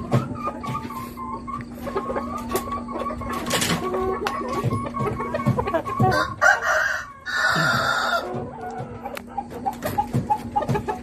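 A rooster crows loudly and close by, with hens clucking and other farmyard birds calling around it, on a rainy-season morning.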